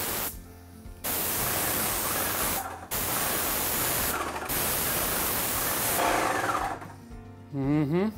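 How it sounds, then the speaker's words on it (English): A spray rig applying primer over printed drywall on a wall: a loud, steady close hiss running in long bursts, broken by brief pauses as the trigger releases, ending with a short burst of other noise. "I'm gonna spray until I see the green start coming through"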